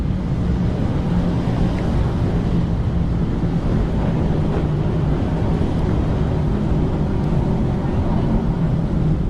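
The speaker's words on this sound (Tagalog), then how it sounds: "Lakas ang hangin sa loob." A loud, steady roar of rushing wind with heavy low rumble, continuous and unbroken, blasting through the Kaybiang Tunnel in Cavite, Philippines.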